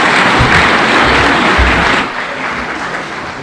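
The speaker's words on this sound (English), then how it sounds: "Another round of applause for all the leaders who have spoken" Audience applause at a political event, dense loud clapping from a large crowd that fades down after a couple of seconds to a quieter murmur.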